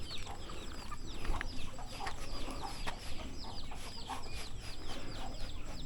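Chickens in a chicken house on a rural Thai farm cluck and chirp in a busy, overlapping chorus, steady and fairly close, with no one talking.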